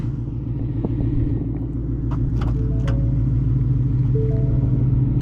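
A 2022 Ford Mustang GT V8 idles with a deep, steady burbling rumble close by, its low throb continuous and loud, with a few light interior clicks and thumps and no talking.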